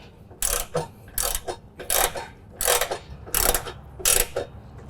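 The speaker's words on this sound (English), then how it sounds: "have to loosen the nut on top of this idler with a 15mm ratchet and socket here" A 15mm ratchet and socket loosens the nut on a mower deck idler pulley of a lawn tractor, six close bursts of rapid clicking separated by short pauses.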